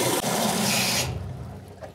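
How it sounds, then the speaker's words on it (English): Warm water pouring into the reservoir of a Wagner fence and decking sprayer, a loud rushing fill that cuts off after about a second, leaving quieter dripping and handling sounds. "you can fill that up with warm water"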